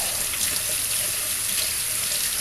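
Steady running tap water rinses seasoned cast iron cookware, a continuous broadband splashing rush that holds evenly throughout with no pauses.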